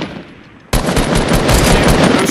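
Automatic gunfire in the Fortnite video game, a dense continuous burst of rapid shots that starts abruptly after a brief quieter moment and stays loud and close to the end.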